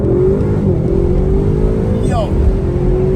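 Tuned Audi RS7 accelerating hard, a loud steady engine drone rising in pitch with a brief shift partway through, heard up close alongside excited voices.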